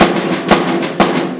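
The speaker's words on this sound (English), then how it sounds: "Here's a Swiss triplet." Quick snare drum strokes playing the Swiss triplet rudiment, a repeating three-note figure, each group starting with a sharp accent, played up close.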